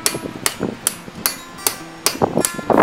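Iron eyelet scarf hammered on the corner of an anvil: about seven sharp metallic blows at an uneven pace, near and loud, with smaller taps and scraping between strikes.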